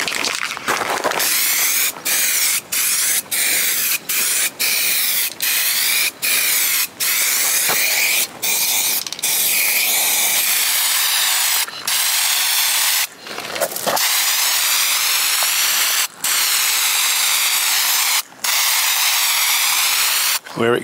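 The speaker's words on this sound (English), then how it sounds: "So the primer I'm using is suitable for metal and wood, so no need to worry about overspray here." Primer is sprayed onto old wooden cottage shutters in long continuous hissing bursts with brief gaps between passes, close and loud, and a voice speaks faintly at times.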